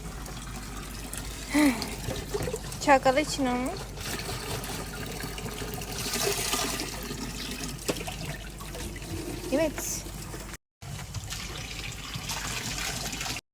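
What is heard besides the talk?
filling water bottles at a spring fountain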